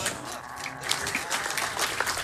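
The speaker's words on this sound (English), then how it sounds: "we can clap for that" An event crowd at a live speedrun marathon of Halo: Combat Evolved at PAX West breaks into moderate applause, a dense patter of clapping that stays steady under a voice speaking over it.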